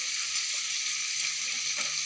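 Jackfruit curry pieces fry in a hot pan, giving a loud, steady sizzle and crackle that holds throughout with a few brief stirring bumps and no voices.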